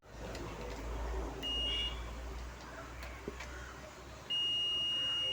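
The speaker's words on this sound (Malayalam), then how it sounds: "മൾട്ടിമീറ്റർ ബീപ്പ് മോഡ് ചെയ്യുക." A multimeter in continuity mode beeps while testing fuses on a Sharp refrigerator circuit board: a brief high beep first, then a longer steady tone at the end, both faint over quiet room noise.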